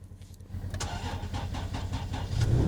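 A truck engine in the Oregon desert cranks briefly with a few rhythmic turnover pulses, then catches and settles into a steady, fairly close idle that grows slightly louder.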